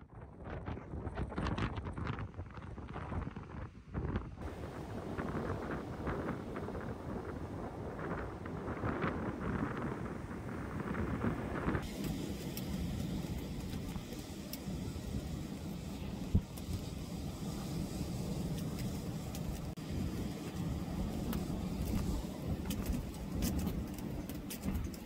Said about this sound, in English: As the sunset grew closer, the wind continued to pick up.